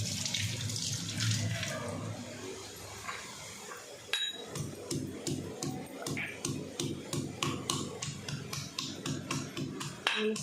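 Kitchen tap water runs steadily as ginger and garlic are rinsed in a village home, with soft clinks and handling noises rising partway through and continuing in a quick repeating rhythm, close and moderately loud.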